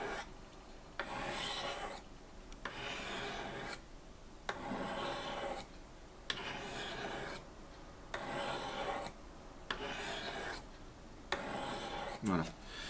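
A knife blade is drawn repeatedly down the ceramic rods of a Spyderco Sharpmaker, about seven evenly spaced rasping strokes each lasting roughly a second, close and clear with short pauses between.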